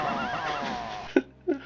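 A centaur in the Daggerfall video game lets out a whinnying, horse-like laugh, a sustained wavering neigh followed by two short huffs, under steady game background sound.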